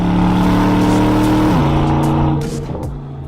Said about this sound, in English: The exhaust system I like to have in Sport Plus because I like that more order content from the engine.